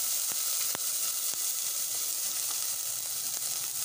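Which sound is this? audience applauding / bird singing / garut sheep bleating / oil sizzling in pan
oil sizzling in pan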